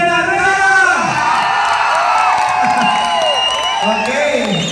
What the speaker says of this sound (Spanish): ¡Aplausos para la reina!